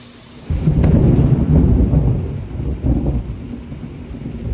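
Thunder rolls loud and close through a thunderstorm, a deep sustained rumble that swells and lingers over steady rain, with no voices.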